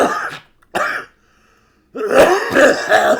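A few sharp coughs and throat clearings from a person, with a short silent pause between the bursts and a longer harsh, close run of coughing at the end.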